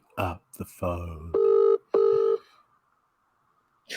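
Two long electronic phone ring tones on an unanswered cold call, evenly spaced and clear, after brief talk and fumbling noises, then silence.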